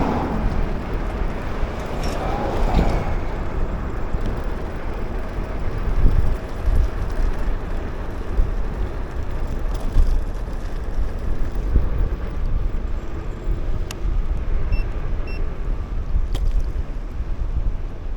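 Wind roar and city traffic rumble heard while riding a fast electric scooter through Queens, New York City, a steady loud broadband wash with occasional passing vehicle swells and faint high whines, no voices.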